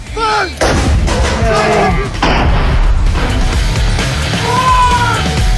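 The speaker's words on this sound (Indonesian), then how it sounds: "Terlihat dalam tayangan lambat saat sebuah meriam howitzer ditembakkan" Loud howitzer cannon shots: several heavy, booming blasts in quick succession, each followed by a rumbling roar.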